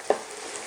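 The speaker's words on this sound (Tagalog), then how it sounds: "Igigisa na natin yung garlic. At yung ating onion." Garlic and onion sauté with longganisa in a pan for pancit lusay, heard as a low sizzle with two quick scraping stir strokes, close and without talk.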